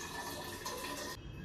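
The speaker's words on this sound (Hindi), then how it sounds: "बॉटल वगैरह भर लेता हूँ" Water runs steadily into bottles being filled, a close gurgling stream that shifts in tone near the end as the flow changes.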